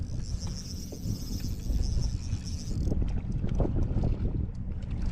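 A low engine rumble of a motorboat passing on Lake Winnebago, Wisconsin, churns steadily across the water, with wind noise and faint insect chirping in the background.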